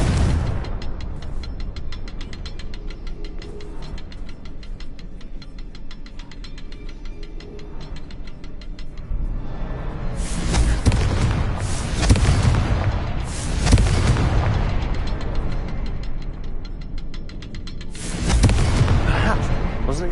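A Confringo blasting spell in Hogwarts Legacy sets off several loud, booming explosions in the second half, clustered bursts standing out over a steady mechanical rumble.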